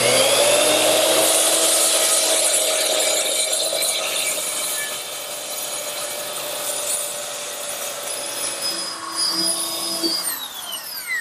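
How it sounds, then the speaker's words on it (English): Circular saw trimming angled cuts in hardwood bed posts on a workbench, a loud sustained whine that runs for several seconds, then winds down as the blade spins to a stop. "take a circular saw and trim the angles"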